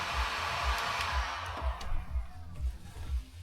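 Steady blowing hiss of a hot-air gun running continuously while wrapping a Lincoln MKZ in film in a garage, with soft rhythmic low thumps beneath it and no speech.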